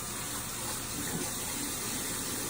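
Hot water gushing from a bathroom tap, a steady, loud, even hiss of running water heard up close without any talk.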